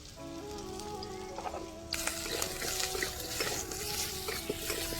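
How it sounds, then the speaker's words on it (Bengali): Cut potatoes frying in a pan with a little salt and turmeric while yogurt chicken is cooked; a steady, close sizzle swells sharply about two seconds in and carries on crackling, with faint tonal sounds underneath. "একটু লবণ হলুদ দিয়ে ভেজে নিচ্ছি, সামান্য লবণ।"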